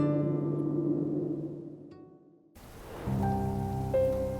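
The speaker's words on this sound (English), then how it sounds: "on rainy nights, the pitter-patter above the roof only increases the sensation of being all alone at home" Rain patters on a roof of a house surrounded by dense woods, a soft steady wash that fades out midway before returning heavier and fuller after a brief lull.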